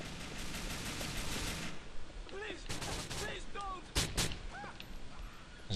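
Gunfire from a firefight in the game GTA IV: several sharp, loud bursts of shots spread through the clip, mixed with game effects and some background voice.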